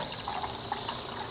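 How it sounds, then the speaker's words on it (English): Water pours steadily into a bowl of pink lemonade mixture made with honey, a continuous close liquid rush with no talking. "Now we can pour in our water"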